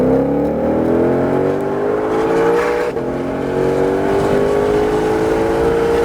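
A 2020 Shelby GT500 accelerating hard on a race track, its engine note climbing steadily in pitch as it pulls through the gears; loud, close and continuous for the whole stretch, with no talking.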